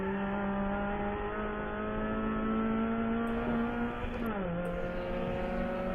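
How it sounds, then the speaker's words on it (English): An H-Production race car at an SCCA Super Tour race at Hallett passes on track, its loud engine drone holding steady and then dropping in pitch as it goes by. "Then you've got an H-Production car, which looks a lot like a B-Spec car."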